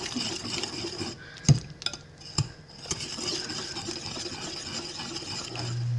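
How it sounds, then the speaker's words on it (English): Sourdough discard chocolate loaf ingredients are mixed in a bowl, with soft scraping stirs and a few sharp clinks of a utensil against the bowl over a quiet background hum. "now I'm gonna mix all of this together"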